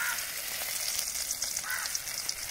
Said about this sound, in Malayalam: ഇനി നമുക്ക് ഇതിനകത്തേക്ക് കുറച്ച് കറിവേപ്പിലയും കൂടി ഇടുന്നുണ്ട്.